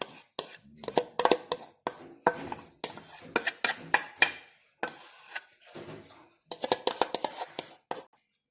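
Mixed berry and milk chocolate mousse is spooned into a container in a rapid series of close, crisp taps and scrapes, with short pauses and quiet moist shuffling between the clusters.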